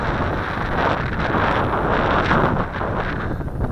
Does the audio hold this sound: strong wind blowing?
yes